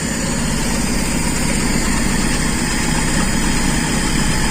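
A Toyota Kijang's carbureted engine idles steadily and loudly up close, a constant low rumbling drone with even mechanical vibration and no other sounds.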